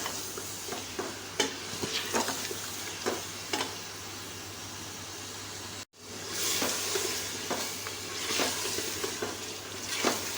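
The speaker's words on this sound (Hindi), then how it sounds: "खूब अच्छी तरह से भूनें।" Mutton with green chillies fries in masala while being stirred, a continuous close sizzle broken by spoon scrapes and pan knocks, with a brief dropout partway through.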